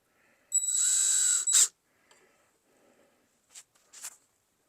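A power drill drives screws into the side of a pull-out turntable shelf, one close high whine lasting about a second, followed by a few short faint clicks and taps.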